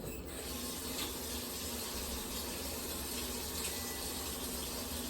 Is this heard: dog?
no